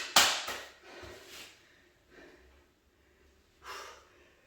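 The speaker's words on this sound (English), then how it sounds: "Take a quick breath" A quick breath drawn mid-set in a push-up workout, a sharp close intake followed by softer breathing and a second audible breath near the end, no talking.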